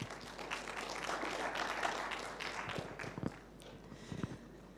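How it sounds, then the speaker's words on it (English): Soft, fairly distant audience applause at a conference forum as a research director is welcomed onto the stage, steady clapping fading toward the end with a few louder isolated claps. "A warm applause."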